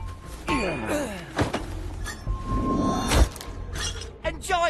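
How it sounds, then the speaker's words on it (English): Objects smash and shatter in a Shadow Gambit pirate game, several sharp breaking crashes scattered among whooshes and thuds, with voices talking between them. "Smashing is for winners."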